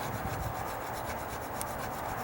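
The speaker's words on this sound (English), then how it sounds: "so see, I can slightly scrape some of it off." Steady scraping across the wood of a deck step, a close, continuous raspy rub with an even texture and no pauses, and no one speaking.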